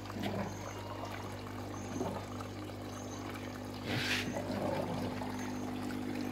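Overflow water pours and trickles back into a fish pond in a backyard aquaponics setup, a steady close splashing flow with a brief louder splash midway.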